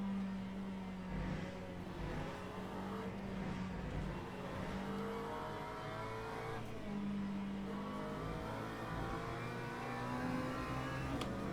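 McLaren race car in Le Mans Ultimate, engine droning steadily through the whole stretch with rising and falling pitch as it revs and shifts, racing on track at moderate level.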